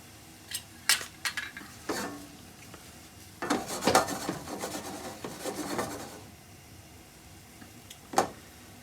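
Mushrooms being flipped and stirred in a copper-bottom EcoWare pan: close, scraping clatters in scattered bursts, with a denser patch of rubbing and a faint sizzle underneath.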